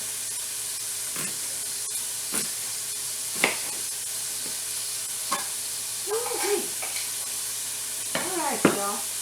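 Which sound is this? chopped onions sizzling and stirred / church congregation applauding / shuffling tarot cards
chopped onions sizzling and stirred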